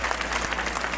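Many worshippers at a church crusade clap together to acclaim God, a continuous, even wash of applause that holds steady throughout.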